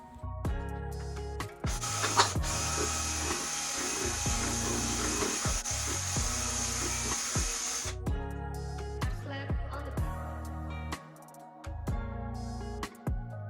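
Cordless drill with a paddle mixing epoxy resin for marble-effect countertops, a steady whirring drone held for several seconds, then stopping and starting again in shorter bursts.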